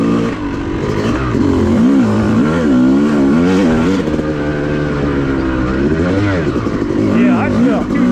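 A two-stroke off-road motorcycle runs along a groomed OHV trail at Wambaw Cycle Trail, its engine rising and falling steadily and close up while a rider talks over it.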